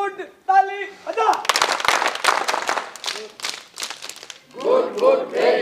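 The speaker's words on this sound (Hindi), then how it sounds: "ताली बजा" Audience applause at a school event at the Ramdular Pahalwan Mahavidyalaya in Semari, a crowd clapping in a dense burst for several seconds between short stretches of someone speaking.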